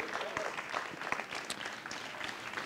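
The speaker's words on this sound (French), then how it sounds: "Trina Magdine et Guy Létroussel, merci de les applaudir" Steady applause from an audience at a radio awards ceremony fills the whole stretch, dense clapping with a few sharper claps standing out, no voices on top.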